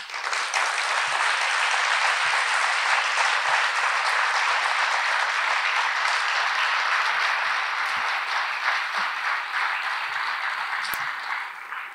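Sustained, even applause from an audience at a 30th-anniversary gathering of a family counseling center, a close, dense wash of clapping lasting the full twelve seconds with no talk over it.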